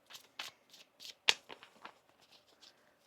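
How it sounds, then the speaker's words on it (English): Tarot cards are shuffled by hand in a quiet room, with a series of short crisp riffles and flicks and one sharp louder snap near the middle. "One more shuffle."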